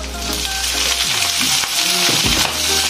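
Mushrooms frying for salpicao in a hot pan, a loud, dense sizzle with a few low knocks of stirring, close and continuous.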